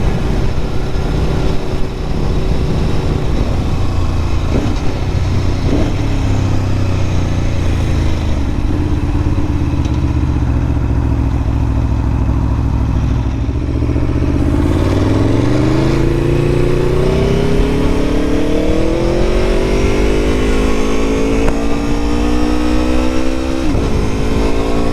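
An Aprilia Tuono motorcycle engine on a road ride, loud steady droning roar under wind, then rising in pitch as it accelerates hard through the gears in the second half.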